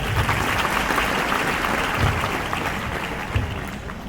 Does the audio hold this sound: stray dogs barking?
no